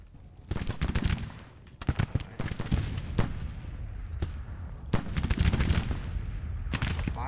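Troops fire guns in the Grand Tactician Civil War strategy game, with repeated sharp volleys and crackling musket fire in dense bursts, loud and close, and no talk over it.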